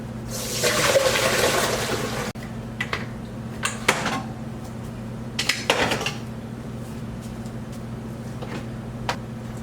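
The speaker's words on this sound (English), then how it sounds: "we're going to drain our potatoes one more time." Water pours out in a steady rush for a couple of seconds as potatoes are drained, followed by clattering pot and metal clanks nearby.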